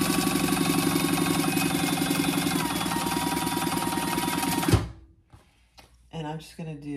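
A sewing machine stitches a chain stitch on a laptop or iPad case, a loud, rapid mechanical whir with a steady rhythmic clatter that runs for several seconds, then stops abruptly, followed by brief speech.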